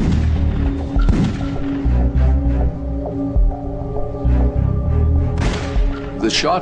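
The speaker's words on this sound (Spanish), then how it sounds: "Los sonidos de los disparos fueron recogidos por un micrófono en la cabina de mandos" Several dull, muffled bangs of gunshots inside an airplane, picked up by a cockpit microphone, spaced irregularly over a steady hum, with voices in between.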